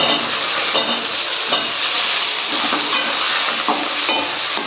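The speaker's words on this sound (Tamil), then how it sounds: "நான் ஆல்ரெடி வேக வச்சு தாங்க வச்சுருக்கேன் சேனைக்கிழங்கு இப்போ சேர்த்துக்கலாம்" Boiled elephant yam hits oil with frying onions over a low flame for a yam and dried fish curry, giving a loud, dense, continuous sizzle and hiss close up.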